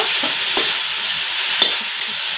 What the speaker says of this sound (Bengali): এখন এই নাড়াচাড়া করে শাকগুলো আমি রান্না করে নিব আর অনবরত কিন্তু এইভাবে নাড়াচাড়া করে নিব